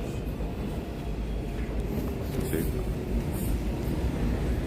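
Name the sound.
train station ambience in Tokyo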